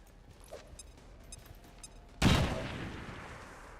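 In Long War 2, a few faint clicks and a small tone, then one sudden loud grenade blast that rumbles and fades over the next second and a half.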